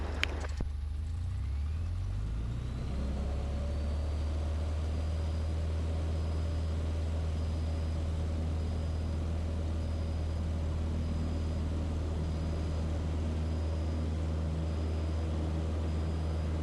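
A small training airplane's engine drones steadily from inside the cabin during a crosswind takeoff, a low constant hum with rising tones at the start as power comes up, and no talking over it.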